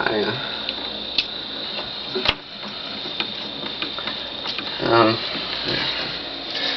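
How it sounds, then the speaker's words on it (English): A 1967 OKI 555-A reel-to-reel tape recorder runs with a steady mechanical motor whir and faint ticking and clicking throughout, plus a sharp click near the middle. "The motor makes a weird noise."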